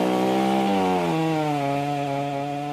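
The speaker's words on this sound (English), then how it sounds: "That's a chainsaw cutting into a huge kauri tree in Titirangi, West Auckland." A chainsaw cuts into a huge fallen kauri tree lying across a road in Titirangi, West Auckland: a loud, close, continuous engine whine whose pitch drops as the blade bogs down in the wood, with no voices.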